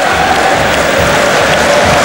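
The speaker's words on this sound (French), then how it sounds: "Applaudi par le stade Chaban-Delmas pour un coup d'envoi que vont frapper les Parisiens" Steady applause and crowd roar fill Stade Chaban-Delmas at kickoff of a 2008 Top 14 rugby semi-final, with a Parisian side kicking off: a loud, continuous wash of clapping and cheering with no break.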